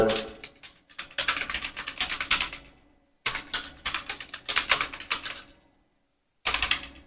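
Fingers type on a computer keyboard in quick bursts of dense clicking, broken by two short pauses, close and fairly quiet, with no talking.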